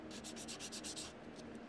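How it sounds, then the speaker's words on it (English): Steady rasping of sandpaper rubbed back and forth in quick strokes on a primed hard model body, close and fairly quiet, with no voices. "I'll finish sanding this up to scuff it up."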